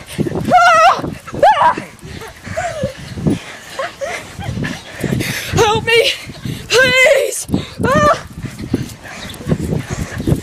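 A fast dog chasing a person yips, whines and barks in several short bursts, close by, mixed with loud shouting and breathless talk.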